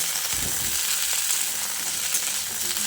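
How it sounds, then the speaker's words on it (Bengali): Drumstick (moringa) stalks frying in tempered oil in a pan, giving a continuous, even sizzle that stays close and fairly loud throughout with a few faint stirring scrapes. "সজনের ডাঁটাগুলো দিয়ে ফোড়নের সঙ্গে ভালো করে নেড়ে চেড়ে নিতে হবে"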